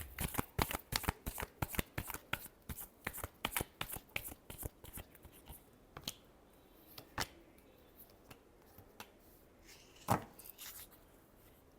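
Tarot cards shuffled by hand nearby, a fast run of crisp flicks and taps that thins out into scattered, quieter card sounds with a couple of sharper snaps toward the end.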